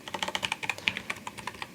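Rapid clattering keystrokes on a computer keyboard as someone types JavaScript code, an uneven run of close, crisp clicks with no talking.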